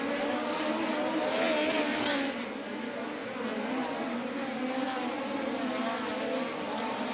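Midget race cars run dirt-track hot laps at Kokomo Speedway during USAC Indiana Midget Week, a continuous loud engine roar from several cars, swelling and easing slightly as they circle.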